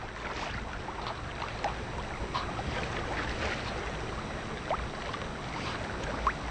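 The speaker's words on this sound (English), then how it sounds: "Got some pretty good wind today." Steady wind rushes around a sailboat on Lake Lanier, a continuous broadband roar mixed with water wash against the hull, and occasional faint creaks and squeaks over the constant blustery noise.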